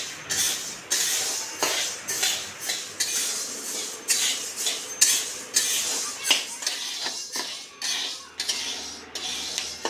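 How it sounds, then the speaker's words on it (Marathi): A spatula scrapes and rattles sorghum grains roasting in a metal pan in steady, repeated strokes, with dry clinking and shuffling throughout. "कढईमध्ये ज्वारी अगदी खमंग भाजायची आहे, म्हणजे अगदी लाही फुटेपर्यंत"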